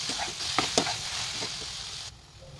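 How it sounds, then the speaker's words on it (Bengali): Khoya kheer being stirred into cooking carrots for carrot halwa in a pan, with soft scraping strokes, a few sharper utensil clicks and a gentle sizzle underneath, heard close up before it quiets near the end. "এরপর খুব ভালো করে নেড়ে খোয়া ক্ষীরটাকে গাজরের সাথে খুব ভালো করে মিশিয়ে দিতে হবে।"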